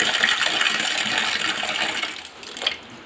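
Water gushing at full pressure from a water tank pipe just cleared of a blockage with acid, a loud steady rushing splash that eases slightly toward the end, with no voices.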